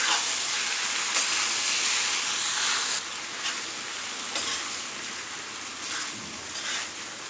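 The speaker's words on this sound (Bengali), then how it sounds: "চুলার আঁচটা একটু কমিয়ে এখন এটা আমি একটু ভালোভাবে নেড়ে চেড়ে নিব।" Cocola noodles stir-fried in a pan over low flame, a broad steady sizzle broken by several scraping stirs, close and fairly quiet, with no one talking.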